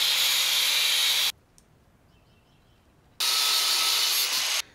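Metal rod pieces being cut for a Fallout 4 style power fist build, two loud sustained bursts of harsh broadband cutting noise separated by a quiet pause.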